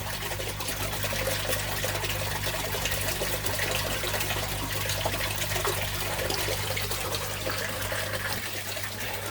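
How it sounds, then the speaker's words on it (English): Pond water drains steadily during a water change, a continuous rushing trickle with a low pump-like hum underneath, close and fairly loud throughout. "I'm going to try and drain quite a bit of water out of here."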